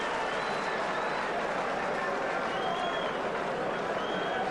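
Capacity crowd at a professional boxing bout in Festival Hall, Melbourne, applauding steadily in a dense wash of clapping and cheering heard from within the hall.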